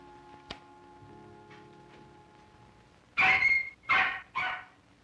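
A dog in an old 16mm film soundtrack lets out three loud, sharp barks in quick succession after a few seconds of faint, hissy near-silence with small ticks.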